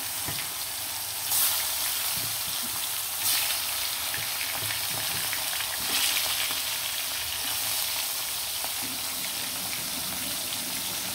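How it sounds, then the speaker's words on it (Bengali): Chicken pieces fry in a pan with a steady, even hiss of hot oil that continues throughout, with occasional faint stirring noises and brief bursts of spitting. "খুব সুন্দরভাবে লাল লাল করে মাংসগুলো ভেজে নিব"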